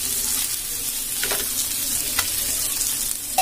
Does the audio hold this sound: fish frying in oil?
yes